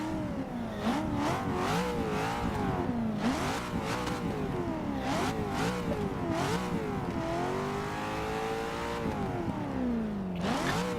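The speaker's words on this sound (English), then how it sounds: "Just listen to this engine real quick." A Hennessey-tuned Corvette Z06 in the racing game Forza 6 revs hard through repeated rising and falling engine sweeps, loud and steady over the whole stretch with brief dips between pulls.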